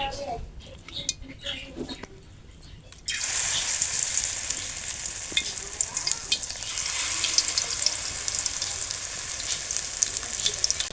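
Water lily pakoras in batter frying in hot oil, a loud continuous bubbling sizzle that starts abruptly after a quieter stretch of clatter and handling noise, then holds steady to the end.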